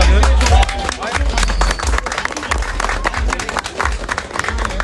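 Audience applause at a cooking competition during a gastronomy festival in Afyon, a dense, sustained clapping crowd with heavy low rumble and talk mixed in throughout.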